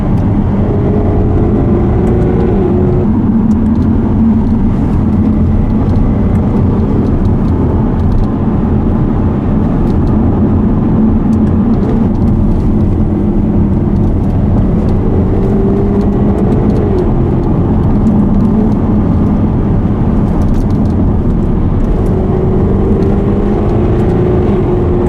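Interior engine and road drone of a Jaguar XKR-S sports car on a winding national speed limit road, loud and steady throughout, with occasional rises in engine pitch as it accelerates out of bends.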